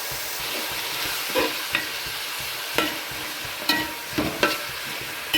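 Onions sauté gently in a pan on low flame for a crab curry, a soft sizzle underneath repeated clinking scrapes of a spoon stirring every second or so.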